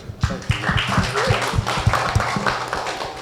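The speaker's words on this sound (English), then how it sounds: "So, round of applause for Ceej." A live audience at an NFT NYC 2023 club talk event gives a round of applause for a speaker, with dense, fairly close clapping that holds steady for a few seconds.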